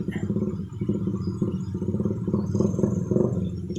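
Motorcycles pushing through floodwater on a flooded road, a steady low engine rumble with clattering and splashing texture running throughout, at moderate distance, with a faint voice now and then.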